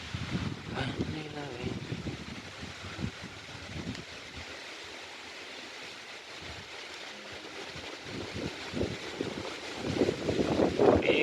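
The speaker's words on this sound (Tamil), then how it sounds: "காற்று கொஞ்சம் பலமாக வீச ஆரம்பிச்சு" Strong wind blowing over open sea during an approaching storm, a steady rushing roar with microphone buffeting that swells louder toward the end, mixed with someone talking.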